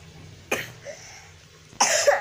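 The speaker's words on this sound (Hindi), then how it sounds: "माँ खांसी हो रही है।" Two distinct coughs, a short one and then a harsher, longer one, close by with quiet background between them.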